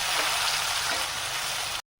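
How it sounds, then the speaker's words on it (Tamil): Onion, garlic and tomato sauté in a pan for a dried-fish thokku, with a loud, dense sizzle that fills the frame before cutting off abruptly near the end. "இப்போ அதையும் இது கூடவே சேர்த்து நல்லா வணக்கிக்கலாம்."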